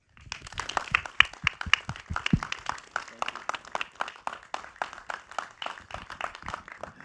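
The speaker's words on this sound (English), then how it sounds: "Please give a round of applause as I introduce Sigma CEO, Mr. Kazuto Yamaki." Audience applause at the Academy Museum of Motion Pictures as Sigma CEO Kazuto Yamaki is introduced, with sparse, distinct claps from a modest crowd that stay steady and moderately quiet throughout.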